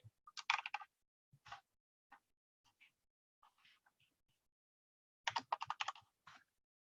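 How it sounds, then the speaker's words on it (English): Quiet keys tapped on a computer keyboard while answering a messenger chat, in two short clustered bursts of clicks at the start and end, with sparse faint taps and soft rustles between. "I was just typing back to him."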